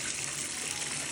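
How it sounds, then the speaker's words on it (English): Warm water pours steadily onto an infant's bath seat, a continuous close splashing flow that fills the short moment with no voices. "I'm just putting some warm water on baby girl's seat so it's nice and warm for her"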